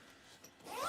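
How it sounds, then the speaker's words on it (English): Zipper on a Vivosun grow tent being pulled open or shut, a short rising zip that grows louder toward the end of the moment, close and alone without talk. "So it's like an easier zipper to open close."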